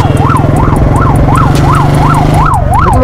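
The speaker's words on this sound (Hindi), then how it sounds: "लेफ्ट कर ले, थोड़ी सी लेफ्ट कर ले, उधर कर ले भाई, एम्बुलेंस आ रही है" An ambulance siren wails through traffic, its rising and falling tone repeating steadily and loudly close by over a low engine rumble for the whole stretch.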